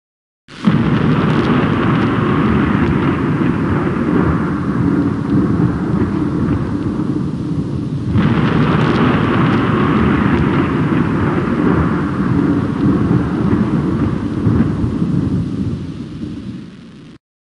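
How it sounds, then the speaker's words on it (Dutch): Loud thunder rumbles on and on, a deep rolling roar that swells again partway through before slowly fading. "Tjonge, wat een onweer."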